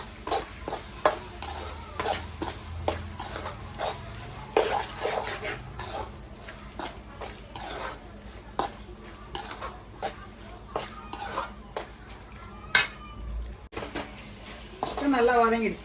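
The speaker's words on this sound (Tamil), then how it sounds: "நல்லா கிண்டிக்கோங்க" Prawn noodle sauce with tomato sauce being stirred in a pan, a quiet run of repeated scraping clicks of a utensil against metal over a faint sizzle, with a soft voice and a cough in the background.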